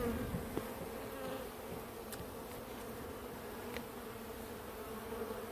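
Honeybee colony nesting beneath a mobile home in Lake Wales, Florida, with fresh comb; a steady, faint, continuous buzzing hum of many bees fills the whole stretch, with a few soft knocks and rustles near the source.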